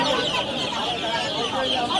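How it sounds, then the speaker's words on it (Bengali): Desi chickens clucking steadily at a rural village animal and bird market in West Bengal, a dense continuous chorus of clucks close by, with ducks kept nearby and no talk over it. "দেখুন এখানেও কিছু মুরগি রয়েছে, কয়লার বা দেশি কিছু একটা হবে"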